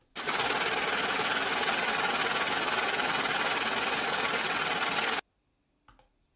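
A money printer runs with a loud, dense, continuous mechanical whirring and clatter for about five seconds, then cuts off abruptly, leaving near silence and a faint tap.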